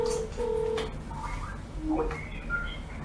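A WhatsApp call rings out to a phone-in listener on a live radio-style broadcast: short electronic beeping tones repeat in a brief pattern, with low voices in the background.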